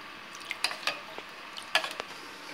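A spoon stirs a tamarind and spice mixture for fish curry in a bowl, giving a few soft, scattered scraping and clinking taps, fairly close and quiet, with no voices.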